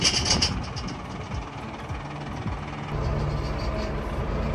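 A farm tractor engine idles and runs steadily at close range in a field, a loud continuous low rumble with a slight knocking throb, unbroken throughout.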